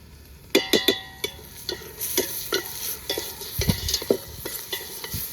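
Onions cooking in a pan over a wood-fired stove with turmeric and salt, a soft steady sizzle under repeated sharp scrapes and taps of a stirring spoon against the pan, close and irregular.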